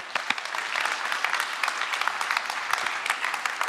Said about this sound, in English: Could we give her another round of applause, please